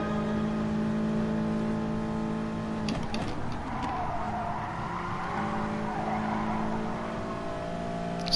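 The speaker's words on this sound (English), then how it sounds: "There's definitely a little bit of sliding going on there." A race car in GT Sport on a dirt course slides with sustained tire squeal over a steady engine drone. A rougher scrubbing burst breaks in near the middle before the hum settles again, with no talk.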